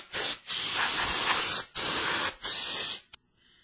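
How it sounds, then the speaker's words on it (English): Aerosol brake cleaner sprayed onto the back of a car rear differential during service, loud close hissing bursts in four spurts of varying length with short gaps, cutting off abruptly at the end. "I'm going to clean up the backside here. using that brake fluid."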